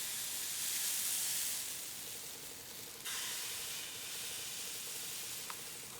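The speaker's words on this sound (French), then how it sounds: "Et là, on va commencer à cuire nos petites crêpes." Crêpe batter cooking on a crêpe maker, a steady soft hiss with no other sounds, briefly louder at the start and eased by a short break near the middle.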